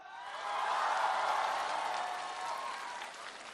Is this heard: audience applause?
yes